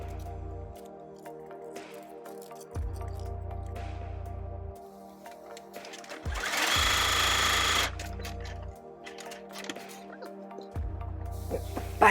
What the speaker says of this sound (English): Let me wind my bobbin up